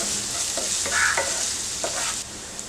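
Chopped onion frying with a pinch of salt in a pan for egg curry, a steady close sizzle with a few scraping stirs of a spoon, no talking.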